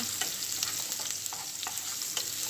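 Sliced onions fry in hot oil in a pan for a home-cooked bitter gourd dish, a steady close sizzle broken by a few light scraping stirs of a spatula.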